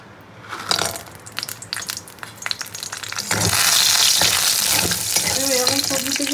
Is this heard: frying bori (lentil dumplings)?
yes